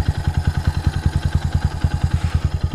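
A carbureted Kawasaki W175 SE motorcycle engine idles close by with a fast, even, thumping pulse, its exhaust steady and unrevved.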